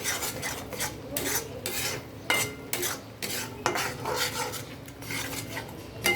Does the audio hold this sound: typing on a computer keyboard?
no